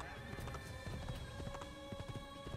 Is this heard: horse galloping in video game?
yes